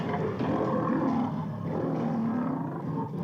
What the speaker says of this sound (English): it's the lion roaring